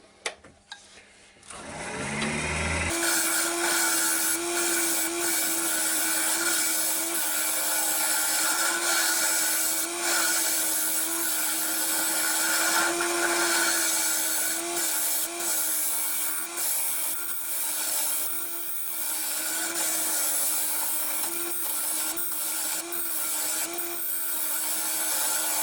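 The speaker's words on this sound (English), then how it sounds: "So I'm going to carry on with this round tip carbide tool, which seems to be giving me the best results." A round tip carbide tool cuts a padauk and walnut bowl on a wood lathe, giving a steady, loud scraping whir with a constant motor tone. It runs unbroken for about 23 seconds after a brief quiet start.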